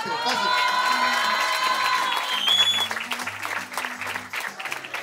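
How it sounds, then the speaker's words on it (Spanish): Crowd claps and cheers loudly for a woman being honoured, with shouts and whistles over dense applause that eases off toward the end. "Aquí quiero por favor un fuerte aplauso para la señora Alicia Núñez."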